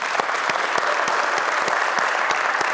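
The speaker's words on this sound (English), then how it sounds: "let's give our panel a round of applause." Audience at a panel event applauding the panelists, a full, steady wash of many hands clapping at once, with a few sharper individual claps standing out, sustained and fairly loud throughout.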